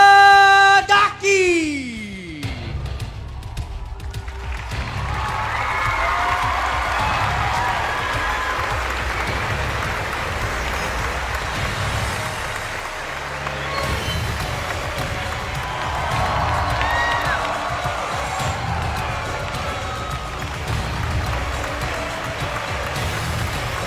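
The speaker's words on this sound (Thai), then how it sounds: "ขอเสียงปรบมือต้อนรับอาลีคาราดากี" A crowd at a Muay Thai boxing event applauds to welcome Kurdish fighter Ali Qaradaghi, a steady wash of clapping with scattered cheers that swells and holds for most of the stretch after a brief opening announcement.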